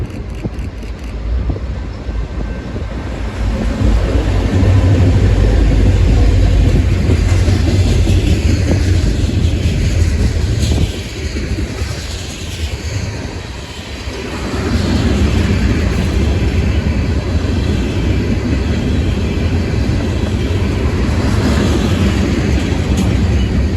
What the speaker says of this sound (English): This train is coming out of PTRA and heading back to Kendallton.